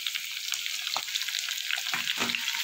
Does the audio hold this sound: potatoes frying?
yes